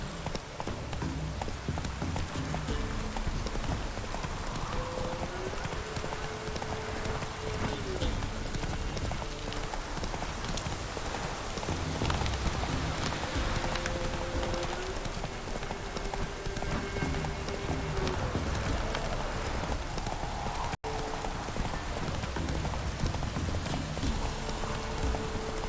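A horse gallops steadily on clip-clopping hooves in The Witcher 3, a dense, continuous run of hoofbeats beneath a constant wash of ambient noise, with a few brief tonal sounds rising over it.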